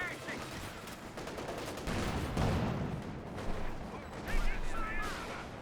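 Artillery thumps from a mortar pit in the Company of Heroes 2 video game sound amid ongoing battle noise and scattered gunfire, moderately loud and somewhat distant.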